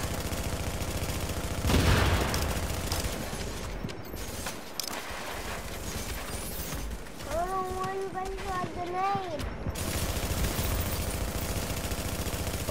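Gunfire from two players shooting, loud rapid bursts and scattered shots under shouted talk throughout, with a rising and falling whine in the middle.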